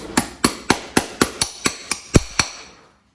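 A hammer taps a nail into a horseshoe during farrier shoeing: about ten sharp, ringing metallic strikes in a steady, even rhythm, close and clear with nothing else heard.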